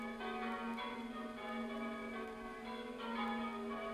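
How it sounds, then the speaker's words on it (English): Church bells ring out over Offenham, a horticultural village near Evesham on the River Avon, in a steady, dense wash of overlapping tones that carries continuously without any voices. "The bells ring out over this horticultural-based village"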